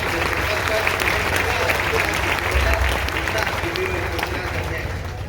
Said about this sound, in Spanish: fuertes aplausos que a los hermanos del sector 5 sector 4